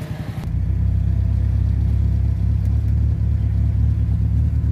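A Kia CD5 car engine cranks and catches, then settles into a loud, rough idle with an uneven, stumbling misfire rumble up close, running steadily with no speech.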